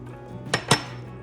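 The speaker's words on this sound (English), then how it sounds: "Stir it up and continue to simmer." Spaghetti sauce being stirred in a pot: after a low background hum, a spoon knocks twice against the side of the pot in quick succession, close and sharp.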